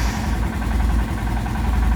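A Royal Enfield Himalayan motorcycle engine idles close by with a steady, loud, thumping low rumble, unbroken throughout.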